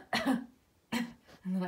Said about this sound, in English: And then I cough like I'm calling into work.